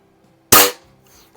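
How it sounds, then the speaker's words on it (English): An antique air rifle fires a Crosman Premier hollow point pellet: one sharp, loud, close crack that decays quickly, followed by faint small clicks. "I'm just going to shoot it with a regular old Crosman Premier hollow point"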